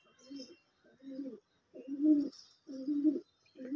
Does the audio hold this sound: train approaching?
no